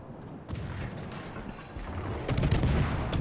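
HMS Cossack's ship guns fire in World of Warships, a few sharp booming salvos with rumbling tails, loud and close, the heaviest burst near the end.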